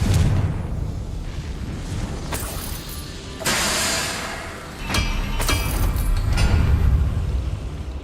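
Fiery Confringo spell blasts in the Hogwarts Legacy video game: several loud, booming bursts land a second or two apart over a constant low rumble, each with a crackling roar.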